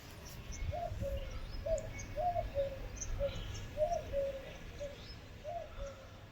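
Birds gather to feed, giving a steady series of soft cooing or chirping calls, roughly one every half second, over a constant low background rumble.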